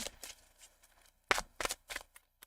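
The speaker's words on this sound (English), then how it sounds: "2 shuffles for Libra" Tarot cards riffle and slap together in short, soft bursts, a quiet shuffle with brief pauses between the flicks, close up and with no talking.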